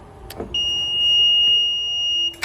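A remote control connecting to an Imer Gerris 800: after a couple of clicks, a steady high-pitched electronic beep holds for nearly two seconds, clear and fairly close, with faint background hum.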